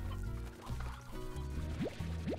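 Soft clucking and chirpy fowl calls from chickens in the video game Slime Rancher, faint and scattered over a background of game music with rising tones.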